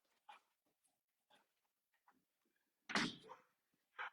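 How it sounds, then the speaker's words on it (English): A dog is shut out behind a door: faint scattered scuffs and small noises, then a sharp close door clunk or slam and a final knock, in an otherwise quiet room. "let me go and shut the dog out."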